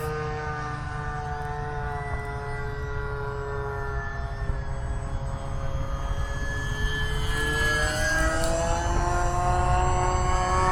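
E-flite UMX Timber RC plane in flight, its small electric motor droning in a steady tonal whine whose pitch shifts and rises as the plane passes and climbs, fairly close and without talk.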